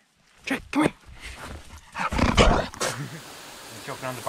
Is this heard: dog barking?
yes